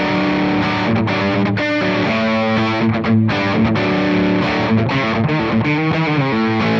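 Electric guitar played through an affordable reverb pedal, steady sustained chords with a thick distorted wash and lingering tail, loud and continuous with no talking.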